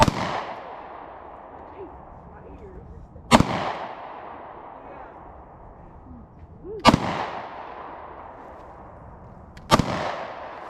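Three loud, sharp gunshots ring out during target shooting, spaced a few seconds apart, each followed by a short echoing decay over quiet outdoor background.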